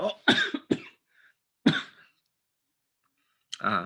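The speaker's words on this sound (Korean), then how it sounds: "제가 여기서 밝히니까 기침이 나오네요" Several sharp coughs in a quiet setting: a quick cluster of three, another a second later, then one more after a pause.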